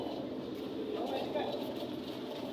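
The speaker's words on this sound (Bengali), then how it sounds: "এটাই হচ্ছে সেই আমাদের কাঙ্ক্ষিত রংপুর এক্সপ্রেস ট্রেন" A steady, loud rumble of the idling Rangpur Express train engine at Bonarpara railway station, Bangladesh, fills the air, with indistinct crowd murmur underneath and no clear pauses.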